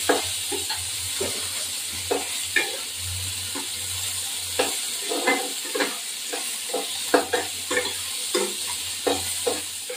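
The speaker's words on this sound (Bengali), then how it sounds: "এবার একটু নাড়া দেবো" Shrimp with potato and cauliflower, seasoned with salt and turmeric, fries in a pan with a steady sizzle while a utensil scrapes and stirs in repeated short strokes.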